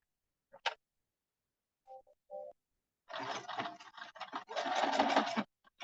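A sewing machine stitches a pocket tab on a bomber jacket, quiet and close: a few isolated clicks and short whirs first, then a longer burst of running stitches with brief pauses, and no talking.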